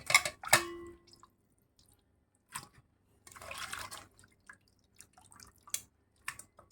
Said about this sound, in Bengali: এটা আমি ভালোভাবে পানি চিপড়াই নিছি